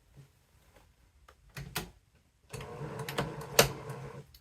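A sewing machine back stitches a short run on a patchwork dress, a faint tap, then two short bursts of quick, close mechanical clicking and whirring.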